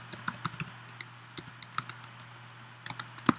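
Fingers type Java code on a computer keyboard in quick, uneven bursts of close, crisp key clicks, with short pauses between runs and no voices.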